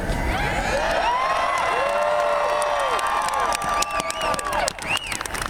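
A large outdoor crowd at an Obama rally cheers, whoops and applauds continuously, a dense wash of voices and clapping with individual shouts rising above it.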